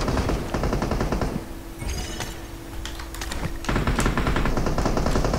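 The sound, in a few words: gunfire in the video game PUBG Mobile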